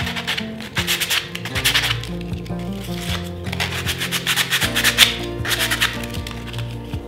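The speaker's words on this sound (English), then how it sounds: "you're going to take your sandpaper and take your hearts, and you're going to use this to rough up the front of them" Rapid rubbing strokes of sandpaper roughing up painted wooden hearts, steady and close, with soft background music underneath.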